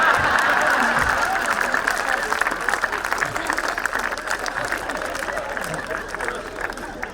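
Sustained audience applause fills a comedy poet gathering, the Mahamurkha Sammelan in Nagpur, as a dense, even wash of clapping that holds steady and fades only slightly toward the end, with faint crowd murmur beneath.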